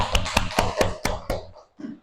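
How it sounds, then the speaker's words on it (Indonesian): A classroom group claps for the winning team in a short run of about six sharp, evenly spaced hand claps that fades out, with a faint voice at the end. "Kasih tepuk tangan buat kelompok 3"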